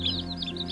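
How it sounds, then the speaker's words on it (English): Newly hatched chicks, including an Easter Egger, cheep in a steady run of thin, high peeps from inside an incubator, close by, over a low hum. "They're all chirping."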